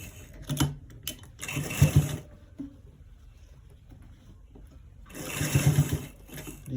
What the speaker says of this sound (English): So we are stitching it all around.